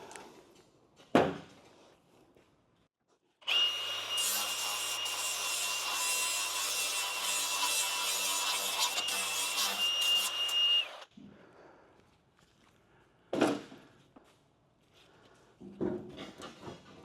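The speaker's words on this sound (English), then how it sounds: "Mr. Flap Wheel's going to be my friend." A flap wheel grinds on a Camaro door skin in a long, loud, continuous burst of about seven seconds, framed by a few scattered knocks and handling sounds before and after.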